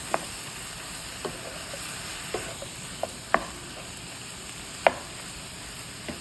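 Beef, peppers and onions stirred in a sizzling frying pan, likely with oyster sauce: a steady sizzle under sharp, irregular clacks of a utensil scraping the pan every second or so, close and clear.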